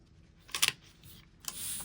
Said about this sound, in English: now I'm just taking my craft knife and I'm gonna cut